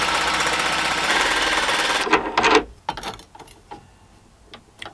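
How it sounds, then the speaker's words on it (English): An old angle grinder, fitted with a 3D-printed attachment, runs loud and steady with a dense buzzing whine for about two seconds, then cuts off, leaving scattered clicks and knocks of handling. "let's see if we can attach this to the old angle grinder"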